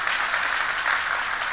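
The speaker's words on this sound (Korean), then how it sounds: "박수로 환영하겠습니다." A congregation in a church applauds to welcome first-time visitors, a brief, even wash of many hands clapping at moderate volume, with no voices over it.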